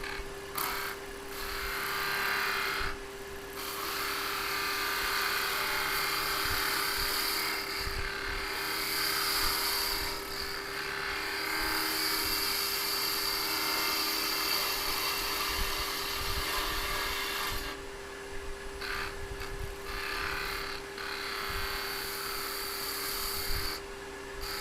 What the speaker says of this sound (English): So the skew is great for cleaning up a surface like this.